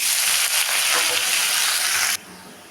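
Fenugreek greens fry in hot oil with dried red chillies, giving a loud, bright continuous sizzle and hiss close by, which drops off abruptly near the end.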